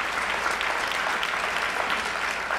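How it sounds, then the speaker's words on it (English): Room full of people at a civic talk on Martin Luther King applauds one another, loud dense clapping close by that continues evenly without pause. "let's start by giving your neighbors here a round of applause just for showing up"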